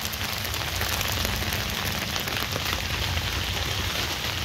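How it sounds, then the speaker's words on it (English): Rain falling on a river in Minnesota during January, a close, steady, even patter and hiss that continues throughout without any voices. "I can't believe it's literally raining out there."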